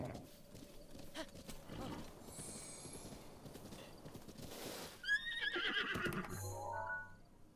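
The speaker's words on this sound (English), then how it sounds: "It's a green horse. He's beautiful and cute!" A horse in The Legend of Zelda trots with steady clip-clop hooves, then gives a loud whinny, layered over soft game ambience and a few chiming effects.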